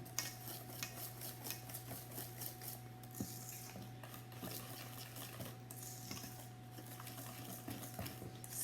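Zucchini bread batter is stirred with flour, cinnamon, baking powder and baking soda, giving soft continuous scraping and clinking of a utensil in a bowl, faint and steady over a low electrical hum.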